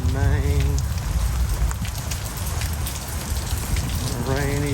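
Steady rain falls on a monsoon morning around a civic center mall, a dense, loud, continuous hiss and patter close by, with a brief whining tone at the start and end.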